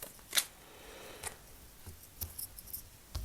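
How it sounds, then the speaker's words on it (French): Two playing cards drawn from a deck during a game of Mage Knight at a table, heard as a few faint, brief papery snaps and slides spread over a few seconds, with no talking. "Il va tirer ses 2 cartes."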